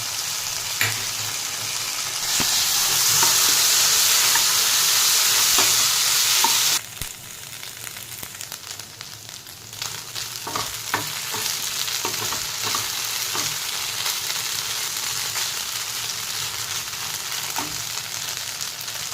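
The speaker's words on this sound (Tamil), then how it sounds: "அதை ஆட் பண்ணிவிட்டு கொஞ்சம் நேரம் ஸ்டர் ஃப்ரை பண்ணிவிட்டு" Cauliflower stir-fried with tomato, soy and Schezwan sauces, a continuous loud sizzle that swells hot for a few seconds, then settles into steady frying broken by repeated scraping and stirring.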